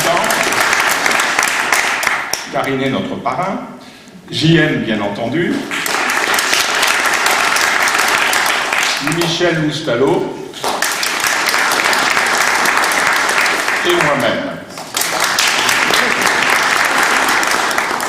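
Audience applause at an award ceremony run by a local newspaper, a dense steady clapping that fills most of the stretch, briefly dropping away as a French-speaking presenter talks over and between the bursts.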